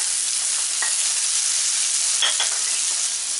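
Tomatoes and green chillies frying in a pan for aloo chaat, giving a loud, continuous hissing sizzle with a few faint utensil clinks and no talking.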